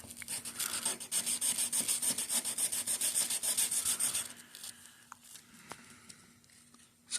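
Folded sandpaper rubbed by hand over scratches on a Tesla Model 3's paint, a quick, even back-and-forth rasp close up that lasts about four seconds, followed by scattered soft taps and faint scrapes.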